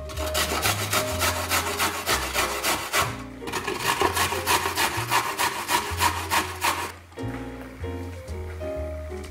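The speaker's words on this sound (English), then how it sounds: "Okay, so now that they're peeled, it's time to grate them." Peeled carrots are grated by hand on a grater, with rapid rhythmic rasping strokes in two long bursts, close and loud, separated by a short pause, then slower scrapes.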